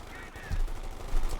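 .50 cal machine gun fire in the WWII strategy game Company of Heroes 2, short bursts of thumping shots set back in a busy battle mix.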